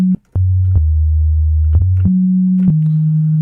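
Pure, deep 808 bass tones built from a sine wave step between a few low pitches, each held steadily with soft clicks at the changes, a synthetic sine-like hum.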